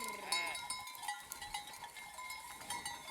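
Sheep bleat a few times amid a noisy outdoor scene in Sicily, with faint voices and clanking in the background.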